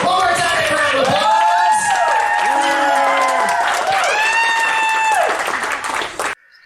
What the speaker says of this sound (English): these guys deserve a big round of applause